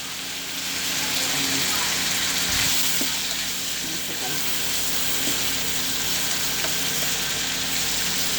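Ingredients fry in a pan for a mung bean and banana blossom stew, a steady bright sizzle throughout with an occasional soft stir or tap, close up.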